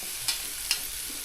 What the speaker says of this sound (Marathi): कांदा करपतोय तो.